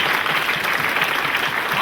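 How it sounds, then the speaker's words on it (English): Steady, dense applause from an anniversary party crowd at Lipa Park fills the whole stretch, loud and close with no break. "Let's give them a nice round of applause."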